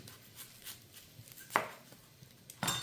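Knife cutting large onions into quarters on a board for roasted salsa verde: a few sharp, isolated chops with brief crackly bursts as the blade passes through, close and fairly quiet between cuts.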